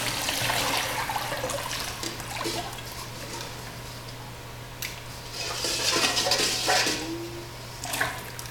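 Liquid raku glaze is being stirred to keep it from settling, giving a continuous watery swishing and sloshing that swells and fades, fairly close, with no talking.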